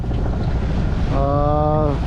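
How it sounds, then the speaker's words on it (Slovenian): Sailing yacht motoring under engine power behind a Caribbean island, a constant low engine drone with wind and water rush, plus a brief tonal whine partway through. "Zdaj ta del tle za otokom greva malo na motor."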